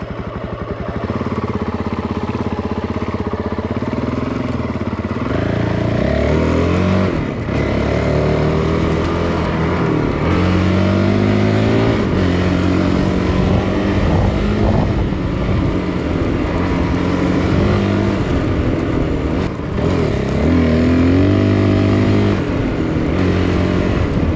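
An enduro motorcycle rides off-road toward a fork in the track, its engine droning steadily and loudly throughout with shifting pitch and wind buffeting the microphone.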